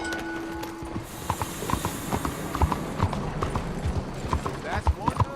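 Horse hooves clip-clopping at a steady walk in the video game Red Dead Redemption 2, with irregular hoof thumps over ambient background noise and a voice talking over parts of it.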